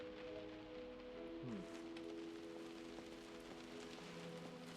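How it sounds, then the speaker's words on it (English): Rain falling outside in the video game Close to the Sun, a steady dense hiss of drops over a faint tonal hum, constant and even with no talking. "And it's raining outside."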